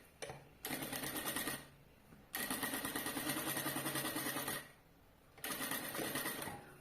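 A sewing machine stitches backpack side pockets in three bursts of rapid mechanical whirring, close and steady, separated by short pauses.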